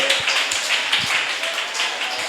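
Rhythmic congregational hand clapping during praise at a church service, continuous and fairly loud, with people's voices mixed in underneath.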